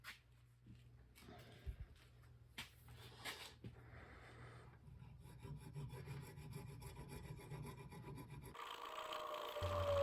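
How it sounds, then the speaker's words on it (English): A chainsaw file rasps against ivory close to a steel knife frame, steady repeated scraping strokes up close with a few sharper knocks early on, growing louder toward the end. "just try to knock the ivory out of the file as I go"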